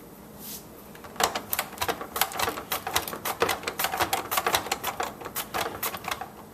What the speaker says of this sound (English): cut the squash up. This is going to take a few minutes